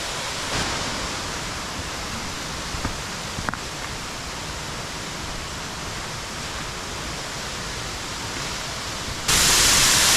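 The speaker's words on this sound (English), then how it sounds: "We're behind the waterfall, Bindaree Falls." Bindaree Falls, heard from behind the curtain of water on a rainy day, gives a steady, dense rushing roar close at hand, continuous throughout with a brief tap and a louder hiss at the very end.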